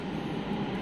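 A metro train pulling into a station, a steady loud rumbling roar of rolling rail cars with no voices over it.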